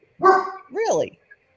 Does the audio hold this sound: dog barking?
yes